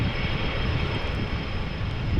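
Airbus A330 on approach for landing in a gusty crosswind at Amsterdam Schiphol Airport, a constant broad roar of jet engines, loud and steady throughout with no talk.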